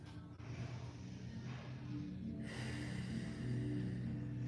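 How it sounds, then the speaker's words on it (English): A slow, deep breath drawn at the close of a yoga class, a long, airy inhale followed by a steady exhale, close and fairly loud and heard without any talk. "we'll take one last breath"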